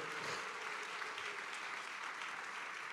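A church congregation at a deliverance service cheers and claps in steady, dense applause that fills the whole stretch without letting up, close and evenly loud throughout.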